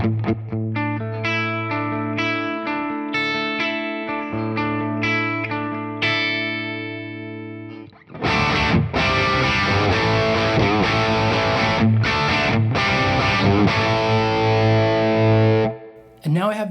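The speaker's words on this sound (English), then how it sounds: "It has the dirty channel that I love, and it's getting the reverb from the Imperial pedal." Electric guitar played through a Tone King Imperial tri-tube preamp on its dirty channel, with reverb from the Imperial pedal: a clean-ish arpeggiated, chordal passage that gives way to a loud, dense, distorted strummed section, sustained and reverberant.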